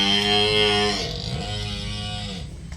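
A cow gives a long, drawn-out moo that sags in pitch near the end, close by and fairly loud, with no talking.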